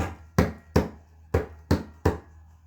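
Five sharp, resonant mridanga strokes played with the thumb in, at a steady, unhurried pace, each with a quick attack and a short ringing decay, played close with nothing else around them.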